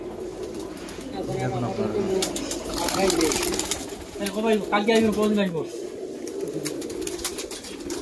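Pigeons coo in repeated low, warbling phrases close by, kept as costly birds. Someone speaks briefly over the cooing.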